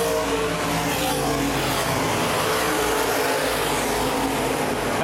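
Open-wheel modified race cars roar around a speedway oval in a sustained, dense engine drone, several cars blending into one loud continuous wash with no break.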